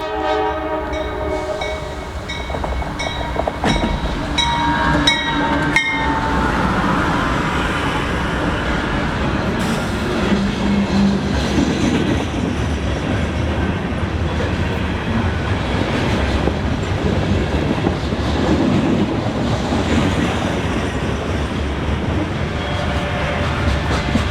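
A heavy diesel-electric coal train rumbles past close by on the James River line in Appalachia, wheels clattering on the rails, while a loud locomotive horn sounds in long blasts near the start.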